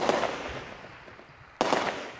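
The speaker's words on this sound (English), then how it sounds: "They still live with the gunfire, but now it's outgoing." Outgoing gunfire from a Lebanese army defense position: two loud, sharp blasts about a second and a half apart, each trailing off into a long echoing decay, with no voices.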